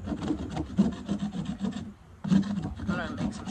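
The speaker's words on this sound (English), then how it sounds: "I'm going to make some shavings" Knife carving shavings from wood for campfire kindling: repeated close scraping and rasping strokes in an uneven rhythm, with a short pause midway before the shaving resumes.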